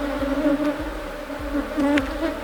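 Dense, loud buzzing of many bees at an apiary, a continuous droning hum with individual insects swooping close past, heard alone without talk.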